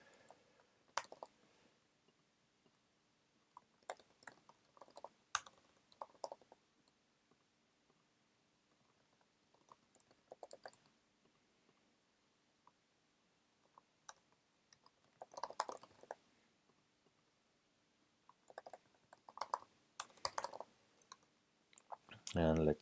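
Computer keyboard typing and mouse clicks in bursts of quick light taps separated by pauses, close and fairly quiet, with a person talking at times.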